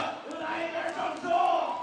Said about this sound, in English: MC Noah Lazarus getting the crowd hyped again.